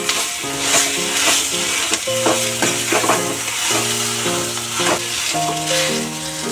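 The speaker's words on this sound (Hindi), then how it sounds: "इन सबको अच्छी तरह से मिक्स करेंगे" A spoon scrapes and stirs a thick potato mixture with dried coriander leaves in a sizzling pan, with rhythmic clinks and scraping strokes over a constant fry.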